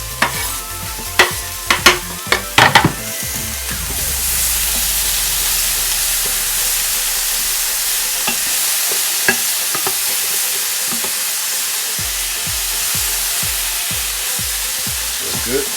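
Squash and half an onion sauté in a pan seasoned with crushed black pepper; a few close utensil clanks and stirs open, then a steady, even sizzle carries on alone.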